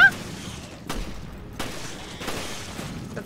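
Gunshots from a weapon in the video game Resident Evil: Revelations, three sharp reports spaced slowly about every 0.7 seconds over steady game ambience, with no talk.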